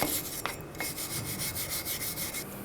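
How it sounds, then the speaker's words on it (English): A wire brush scrubs rust from the hub of a 2007 Chevy Silverado 1500 Classic during a front brake job, making steady rhythmic rasping strokes, close and moderately quiet, with no talking. "Take a wire brush and just clean up any rust buildup on the hub."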